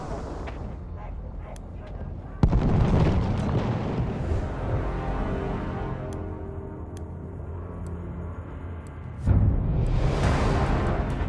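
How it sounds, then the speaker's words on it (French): Artillery barrage in Battlefield 1, with heavy booming blasts at about 2.5 and 9.3 seconds, each followed by a long rumbling roar over a constant battlefield din. "Les coordonnées ennemies ont été transmises à notre artillerie."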